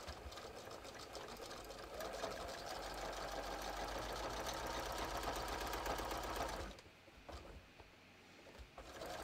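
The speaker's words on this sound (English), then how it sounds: "We're going to sew along the top edge using a 5/8 inch seam allowance" A sewing machine runs continuously along the top edge of a bathrobe with a 5/8 inch seam allowance, a steady close whirring for about seven seconds before stopping, leaving quiet handling noise.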